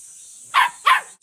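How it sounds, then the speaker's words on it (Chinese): Two loud, close barks from an excited dog at a grandparent's rural home, evenly spaced about a third of a second apart over a steady high background hiss. "这条狗子听到我的声音好激动啊， 一直叫个不停。"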